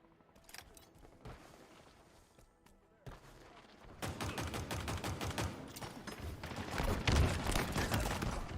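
Halo Infinite multiplayer gunfire, a sidekick pistol and other weapons, crackles in sparse shots at first, then swells into a dense, loud barrage of rapid fire and impacts, with some game chatter underneath.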